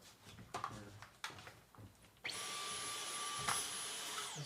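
A vacuum cleaner switches on partway through, then runs loud and steady with a high whine, after a few bumps and handling knocks at the start.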